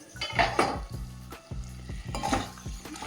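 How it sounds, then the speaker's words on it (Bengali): Spices being stirred in a pan while cooking egg curry, repeated scraping and clinking of utensil against pan over a soft sizzle, close and fairly loud. "মশলা মশলা দিয়ে সব কষাচ্ছি"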